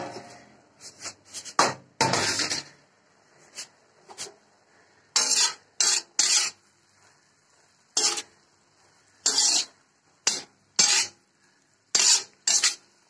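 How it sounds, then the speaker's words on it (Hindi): Vegetables cooking in an iron kadhai, heard as a run of separate scraping and stirring strokes of a spoon against the pan, irregular and fairly close, with quiet gaps between them and no talking. "लोहे की कढ़ाई में सब्जी तैयार हो रही है।"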